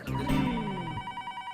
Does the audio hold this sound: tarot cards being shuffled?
no